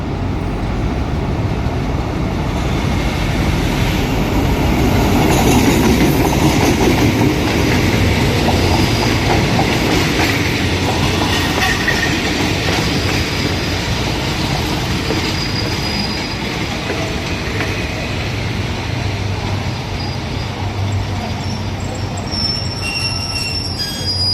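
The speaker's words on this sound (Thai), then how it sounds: "มาแล้วนะครับ ขบวนรถชานเมืองที่ 389 นะครับ ต้นทางกรุงเทพปลายทางฉะเชิงเซานะครับ" Suburban passenger train hauled by locomotive 4139 passes close by in Thailand, a steady loud roar of wheels on rail with continuous squealing and rhythmic clatter lasting throughout.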